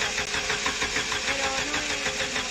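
A Volvo 740 16V turbo engine cranks while trying to start, making a continuous rhythmic mechanical churn with a steady pulsing beat at moderate loudness and no voices.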